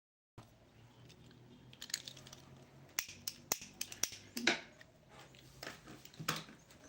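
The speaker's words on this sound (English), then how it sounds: "You have finally spoiled my lighter, Abi." A broken lighter clicked over and over, sharp close snapping clicks in an irregular series with no flame catching, faint and isolated in a quiet room.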